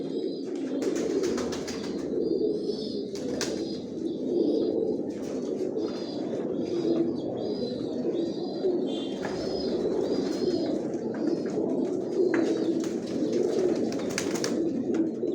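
Johnson line pigeons of down shape cooing in a loft, a dense, continuous murmur of overlapping throaty coos from several birds, with scattered higher chirps and wing flutters throughout.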